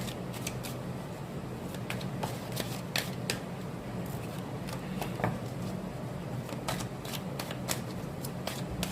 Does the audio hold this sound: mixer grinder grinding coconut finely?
no